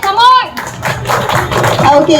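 An audience in Kozhikode claps for a pair of guests in a short burst of applause, with voices talking before and after it.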